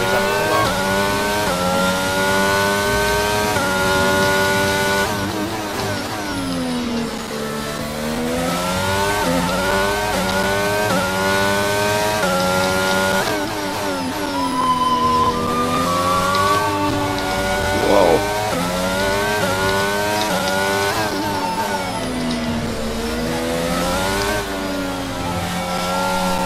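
A Formula 1 car in a Singapore racing game, engine revving loudly and continuously, pitch rising and falling through gear shifts with a steady high-revving whine and no talk over it.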